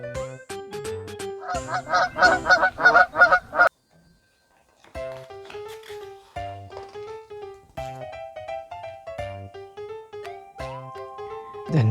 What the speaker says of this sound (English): "Wow!" honked Goosey Gander.